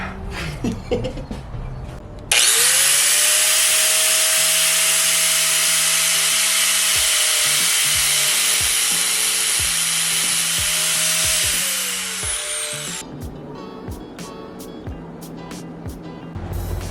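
Power tool running under a turbocharged all-wheel-drive car while a part is unscrewed, a loud, steady high whine lasting about ten seconds before winding down, surrounded by clanks of work.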